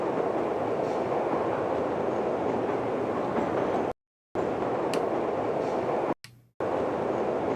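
A maintenance transport rumbles steadily through a tunnel in The Journeyman Project video game, a continuous loud rail-like roar with two brief dropouts near the end.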